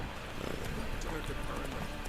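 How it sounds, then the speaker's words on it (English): Horse hooves clip-clop steadily while riding in the video game The Witcher 3, a continuous muffled gallop under game sound and someone talking over it. "So hard to control this horse."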